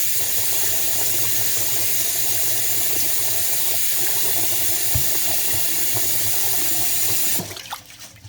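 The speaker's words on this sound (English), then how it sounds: "now we're gonna wash it, and then we're gonna pour this water off" Rice is rinsed under a running kitchen tap while being prepared for Jamaican rice and peas. A loud, close, continuous gush of water fills most of the stretch and cuts off near the end, followed by faint handling noises.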